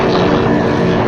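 A 5-litre Holden-engined racing speedboat, Quiver, thunders past on the front straight at a Manning River race in New South Wales, a loud continuous engine roar filling the short stretch without letup.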